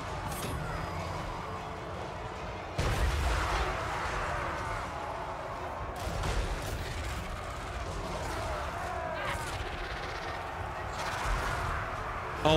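Artillery and mortar fire boom across a siege battle in Total War: Warhammer 3, repeated heavy blasts over a dense roar of fighting armies, continuous and fairly loud throughout.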